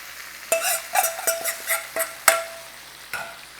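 Hot tempering spooned over paneer kadhi, a series of sharp sizzling bursts and clinks close by, each fading quickly, with no talking.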